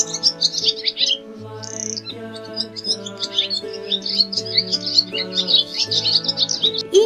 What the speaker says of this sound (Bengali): ঘয়ে ঘুঘু পাখি ডাকছে গাছে